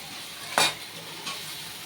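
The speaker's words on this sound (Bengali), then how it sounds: "এবার এই আলুগুলো দিয়ে মশলার সাথে আরো একটু কিছুক্ষণ সময় ভালোভাবে কষিয়ে নেব।" Fried potatoes are stirred into masala in a pan, giving one sharp scraping stir over a soft background sizzle and a fainter second stir shortly after.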